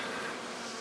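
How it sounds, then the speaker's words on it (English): Honey bees buzz steadily around a backyard hive in winter snow, a continuous close insect drone that holds at an even level with no voices. "here's another bee tumbling in the snow"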